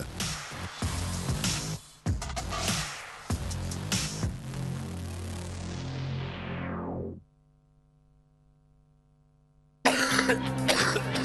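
Several loud, harsh coughs come in quick succession in a television advert for Prospan herbal cough medicine. The coughing fades into near silence, then a fresh loud burst of sound follows.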